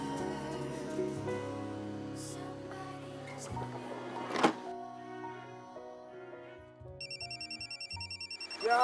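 A telephone ringtone sounds in a room, with rhythmic electronic ring pulses near the end after a stretch of background music and a brief thump.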